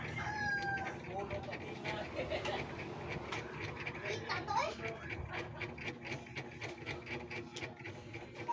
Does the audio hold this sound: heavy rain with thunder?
no